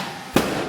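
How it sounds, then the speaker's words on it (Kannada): A single sharp firecracker burst pops close and loud at a birthday celebration, a short crack rising over a quiet indoor background. "ಪಟಾಕಿ ಹೊಡಿತೀವಿ."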